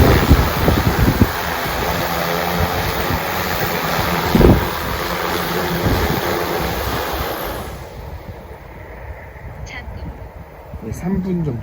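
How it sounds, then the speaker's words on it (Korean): Strong gusting wind roars across the microphone during an agricultural spray drone flight test with an EFT G416 frame, steady and loud for most of the stretch, then easing to a quieter breezy background near the end. "바람 장난 아니네."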